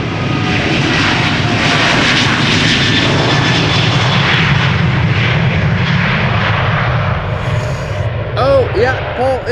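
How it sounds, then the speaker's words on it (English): A KLM Boeing 737-900 jet departs Amsterdam Schiphol, its engine roar loud and sustained from near range, easing slightly toward the end while a faint warbling sweep appears as it climbs away. "First up, this KLM 737-900 to Athens"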